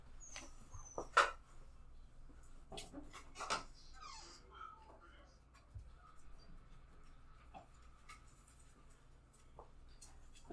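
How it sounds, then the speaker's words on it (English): Soft, intermittent whining and whimpering from a small dog, faint and a little distant, with occasional scratching and shuffling in a quiet room. "tiny dog whining at the door"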